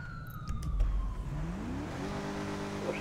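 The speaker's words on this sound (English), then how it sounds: "I think that was a sports car." In a police roleplay video game set in Los Santos, a sports car engine revs and accelerates, its pitch climbing as it passes, with a faint siren wail behind it.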